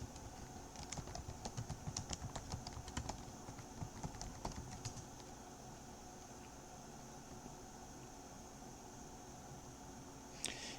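Typing on a computer keyboard, a rapid run of soft clicks for the first few seconds that thins out to scattered keystrokes over a steady hum, with a brief sharper click near the end.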